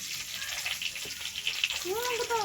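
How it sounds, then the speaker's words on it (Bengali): Cumin, bay leaf and dried chillies sizzle in hot oil while cooking desi chicken curry, a soft steady hiss with scattered pops, fairly quiet, with a voice briefly emerging near the end. "এই ধরুন একটু জিরে, একটু তেজপাতা আর দুটো শুকনো লঙ্কা দিয়ে দিচ্ছি।"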